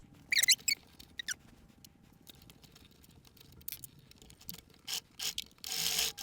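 Sewing machine stitching elastic on a fabric scrunchie, with faint mechanical whirring and several short bursts of louder rattling and clicking that are close and intermittent.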